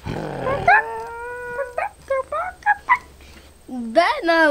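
A child makes barking, yelping dog-like noises with the voice in imitation of a chicken. There are several short yips and a longer howl-like cry, close and loud, with brief gaps of quiet between them.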